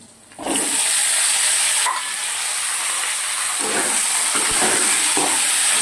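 Whole spices of bay leaf, mace, green cardamom, cloves, cinnamon and cumin seeds hit hot oil with a sudden loud, steady hiss and sizzle that holds for several seconds, with soft stirring scrapes near the end.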